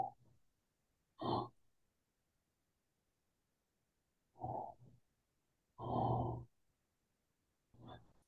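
Snoring comes over an open phone microphone on a group call: a handful of separate rough, breathy snorts spaced a second or more apart against near silence.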